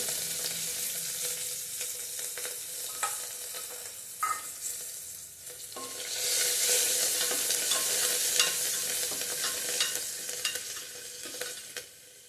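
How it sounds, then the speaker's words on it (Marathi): Steady sizzling of onions frying in hot oil for sambar, with intermittent scraping and stirring in the pan, growing louder and hissier midway through. "छान परतून घ्यायचंय"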